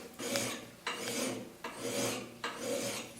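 A double-cut file rasps along an axe in four long, even strokes with short pauses between them, close and steady with no talk.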